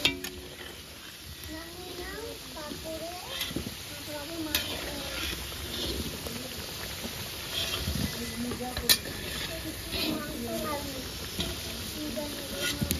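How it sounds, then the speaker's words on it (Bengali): Potato pieces fry in a pan until reddish, giving a continuous sizzle with scraping stirs and occasional clinks of utensil on pan, while people and children talk in the background. "আলুটা লাল লাল করে ভাজা হয়ে গেছে"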